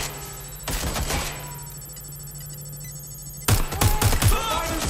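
Bursts of gunfire in the action game Watch Dogs: Legion, a loud rapid volley early on, then a quieter stretch with a steady hum, before another close, heavy round of shots.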